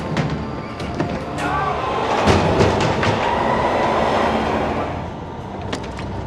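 A train moves through an underground metro station, giving a steady, fairly loud rumble with clacking wheels and brief sharp squeals, holding at the same level before easing slightly toward the end.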